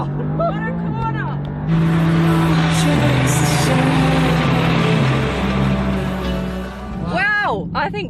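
A Mercedes-AMG car driven hard around a race track, its engine droning loud and steady with shifting pitch through gear changes, while a voice talks excitedly over it at the start and end.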